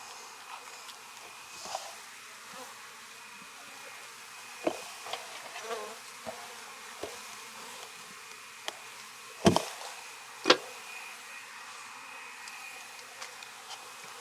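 Honeybees hum softly and continuously at a hive, a low buzzing bed broken by a few sharp clicks and knocks, with no one talking.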